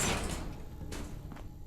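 A remote-controlled door in Fallout 4 unlocks and slides open with a quiet mechanical rush, then a couple of short clunks as it settles, faint and close with no talk.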